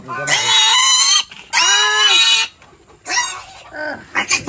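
Piglets in a freshly cleaned pen give loud, high-pitched squeals in several long bursts, close by, with short gaps and a few quieter squeaks toward the end.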